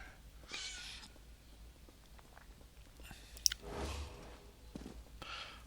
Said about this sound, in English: Oh, there's a kitty up there.